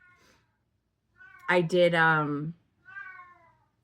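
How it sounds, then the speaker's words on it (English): A pet cat gives a loud, drawn-out meow close by, preceded and followed by brief bits of a person talking at the microphone. "my cat, I told you, she's mad vocal lately"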